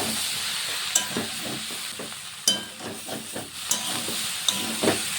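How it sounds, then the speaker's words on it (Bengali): Fried prawns stirred with vegetables in a hot pan, giving a steady sizzle with repeated scraping strokes of a spatula and sharper clinks every second or so, close by, with no talking. "চিংড়ি মাছটাকে দিয়ে আবার একটু নেড়ে ছেড়ে নেব।"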